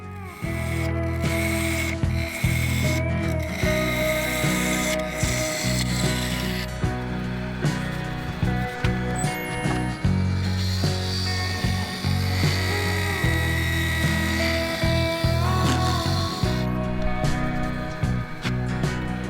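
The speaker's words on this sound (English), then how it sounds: "I turned the base around and worked on the bottom of the bowl." Lathe turning and shaping the bottom of a wooden honey pot bowl, a close, steady whirring drone broken by repeated scraping tool cuts and brief pauses, no talk.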